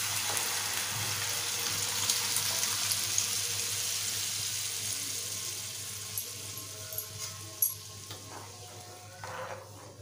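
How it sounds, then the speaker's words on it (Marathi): Boiled dal poured into a pan of sizzling spices for Maharashtrian varan, a steady close hiss and sizzle with faint stirring and watery splashes, no talk. "आता आपण जी डाळ उकळून घेतले ती घालूया।"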